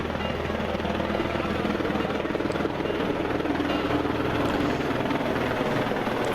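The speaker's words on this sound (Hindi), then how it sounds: "बागनाथ मंदिर में फूलों की बारिश किस तरह से हेलीकॉप्टर के माध्यम से की जा रही है" A helicopter flies over Bagnath temple during the Uttarayani fair, showering flowers, its rotor giving a steady, rapid chopping thrum at moderate distance, continuous and alone.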